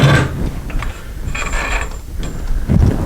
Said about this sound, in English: And then we're going to slide our pulley off.